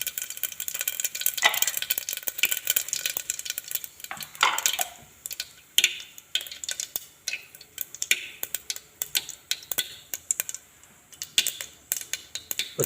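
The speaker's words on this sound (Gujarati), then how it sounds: "સિંગદાણા, માંડવી દાણા, તેલ આવી જાય મરચું, રાઈ જીરું નાખી દેશું।" Peanuts, chili, mustard seeds and cumin tempering in hot oil for vagharela bhat, a steady stream of small crackling pops and ticks close by, with occasional clinks of a pan and no talk.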